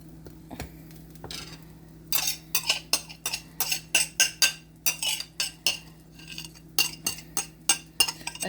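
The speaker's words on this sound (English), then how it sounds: "I'm going to take the avocado and use it on the toast instead of putting butter" A knife scrapes and taps against a slice of sprouted whole grain toast while spreading avocado, making a run of short, crisp, close strokes in an irregular rhythm over a faint steady hum.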